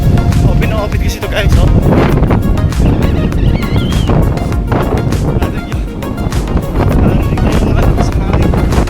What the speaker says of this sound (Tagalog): nandito na tayo sa malakas ang hangin, no? Grabe hangin dito.